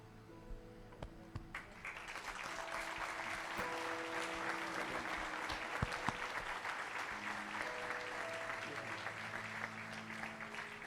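Sustained applause from a church congregation at an evangelical service fills the room, a dense steady wash of many hands clapping, with faint voices and some organ-like tones underneath.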